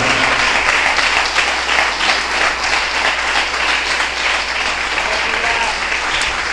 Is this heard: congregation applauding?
yes